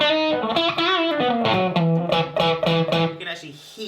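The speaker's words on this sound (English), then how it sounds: "you can actually hear it's making the distortion work" An electric guitar played through a distortion effect sounds a short run of sustained, gritty notes plucked at varying force, fairly loud and close.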